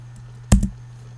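Two quick keystrokes on a computer keyboard while entering a password, a sharp pair of clicks close together over a steady low electrical hum.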